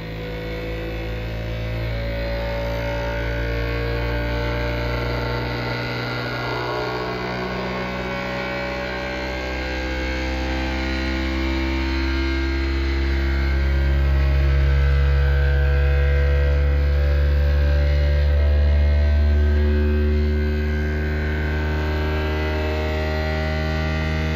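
A steady mechanical hum from a Creality Ender 3 V3 Plus 3D printer during initial calibration drones on, rising and falling slightly in pitch as motors shift during a long stretch of operation.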